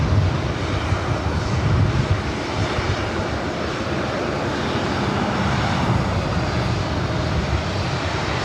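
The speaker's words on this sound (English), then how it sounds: "Got that old America West A319 up next." An old America West Airbus A319 airliner at LAX, a loud, steady engine roar rumbling continuously through the whole stretch with no talk.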